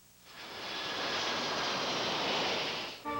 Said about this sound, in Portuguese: Estamos voando baixo de helicóptero ao lado da pista de Guarulhos